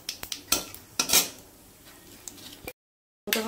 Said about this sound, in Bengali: একটু গোটা গরম মশলা দিয়ে দিলাম তেলের মধ্যে